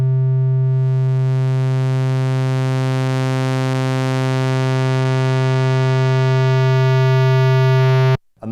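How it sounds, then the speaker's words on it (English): Oscillator 1 of a Modal Skulpt SE synthesizer holds one steady, loud, harmonically rich tone, stepping from sine through triangle and sawtooth to square, before a sudden cut near the end. "So it goes from a sine to a triangle and then to a sawtooth and a square."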